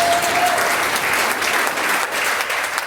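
Brisk applause from a stand-up comedy crowd at Brown Street Station in Chadbourn, given for the music director, with steady clapping and a brief cheer at the start.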